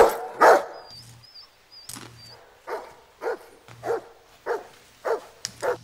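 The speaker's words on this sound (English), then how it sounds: "what you barking at, boy?" A dog in the film Signs (2002) barks repeatedly in short, evenly spaced bursts, each ringing out with a bit of echo, loud and close against a quiet background with no talk.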